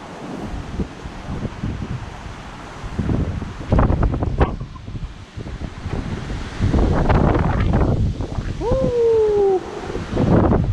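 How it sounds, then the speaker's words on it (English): Hurricane Zeta's gusting wind roars across the microphone in heavy, surging bursts along a waterfront, rising and falling throughout with a brief whistling tone near the end. "It's gusting."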